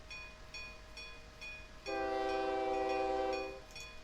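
Trains arrive and shunt in the video game OpenTTD, with soft rhythmic clicks running under a loud sustained train horn that sounds for about two seconds and then fades.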